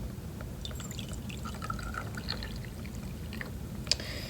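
Crystal-growing solution poured from a lipped bowl, a steady close liquid stream running throughout with a few faint drips and clinks.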